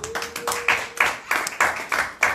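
Congregation at a church healing service clapping in unison, a steady rhythmic beat of sharp claps about every third of a second, moderately close, with no talking over it.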